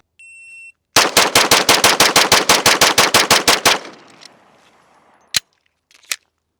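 A rapid string of about twenty loud, evenly spaced revolver gunshots fires in quick succession, followed by a ringing decay and two more isolated sharp shots.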